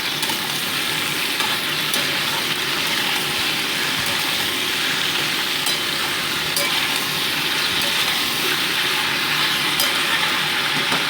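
Flat beans (sim) frying in a pan for about two minutes, a loud, steady sizzle with faint stirring clicks running throughout, no speech.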